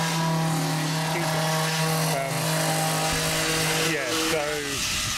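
A power tool cuts relief slits into the front bumper of a Mazda Miata, a steady whining drone whose pitch wavers and bends as the cut proceeds, with occasional scraping bursts.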